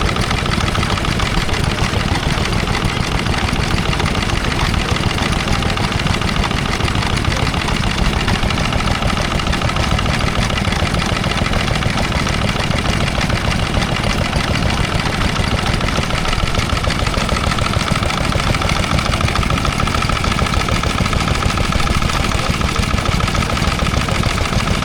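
A Lister D stationary engine drives a Type H1 pump at a Sussex country show, a loud, close, continuous chugging drone that stays even throughout with no voices.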